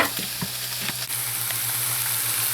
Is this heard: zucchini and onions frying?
yes